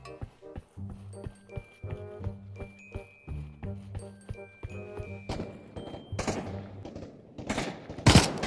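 Gunfire in the VR game Trouble in Terrorist Town, with rapid automatic bursts of shots along with metallic clinks and tonal game sounds, ending in a louder, harsher burst of firing.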